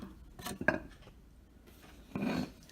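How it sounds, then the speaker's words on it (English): Carrots grated on a plate: a few short, close scraping strokes come in separate bursts with quiet gaps between them, and no voice is heard. "So I'm going to keep grating this"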